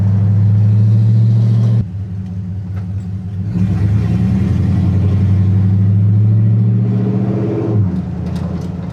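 An LS-swapped 1971 Chevrolet C10 drones steadily at cruise, its low exhaust hum loud and constant inside a cab with no interior, easing briefly before settling back into the same monotonous rumble.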